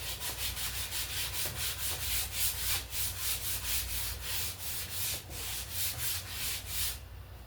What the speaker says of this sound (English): So, sand it.